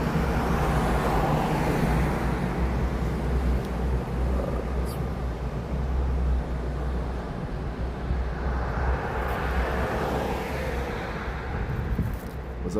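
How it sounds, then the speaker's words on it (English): Night street traffic in Japan, a continuous low rumble of passing cars and engines swelling and fading, steady and moderately loud with no clear voices. "I feel like there's way too much traffic here right now"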